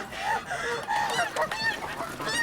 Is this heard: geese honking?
yes